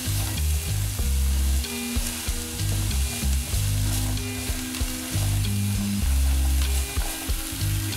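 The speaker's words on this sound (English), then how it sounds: "You're gonna want to sear these onions, let them brown with the butter a little bit." Onions sear with butter in a pan for beef stroganoff, a loud, dense sizzle with stirring scrapes running throughout, close up and without voices.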